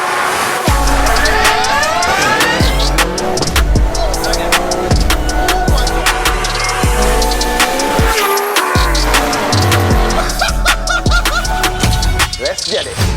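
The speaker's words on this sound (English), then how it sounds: "go out on a gravel stage in a BRC rally car" A Skoda R5 rally car with a 1.6-litre engine and sequential gearbox drives a gravel rally stage, its engine roaring loudly and continuously with rapid gear changes throughout, heard from close inside the car.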